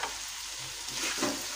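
Chana dal pulao masala is stirred in a hot pan, a steady close sizzle with soft scraping swirls of the spoon as the mixture fries.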